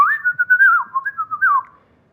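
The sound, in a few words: whistled imitation of a morning wren singing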